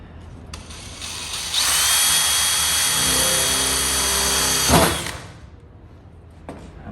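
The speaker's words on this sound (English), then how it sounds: "tape can hold your drill from moving around on metal when you cut it" A power drill bores into metal on a vintage gas pump build, a loud, sustained whining grind lasting a few seconds before winding down, with quieter handling noises around it.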